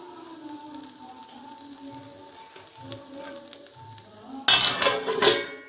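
Banana flower curry with coconut cooking in a pan over a low flame: a soft, steady sizzle murmurs along, then swells into a louder crackling burst near the end.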